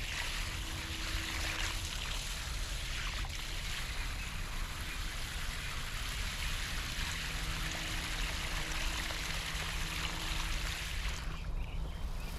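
Water from a garden hose washing sand and composted manure down into a planting hole for banana plants, a steady close rushing and trickling flow throughout.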